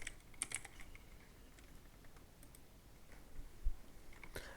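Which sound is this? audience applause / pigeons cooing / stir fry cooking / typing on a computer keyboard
typing on a computer keyboard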